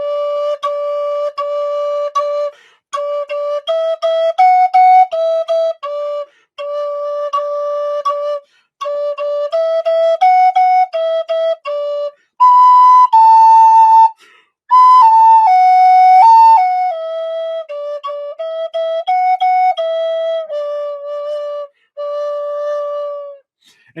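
Native American flute in D playing a run of separate notes, each begun with a sharp tongued attack, with short gaps between phrases. The tone is clear and near, and nothing else is heard.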